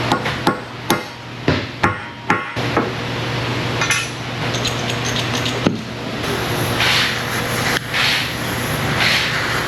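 Chisel struck with a hammer on the rear hub bearing of a 2014 Mercedes SUV: about six sharp metallic blows in a steady rhythm, then a few scattered hits over a constant background hum and hiss.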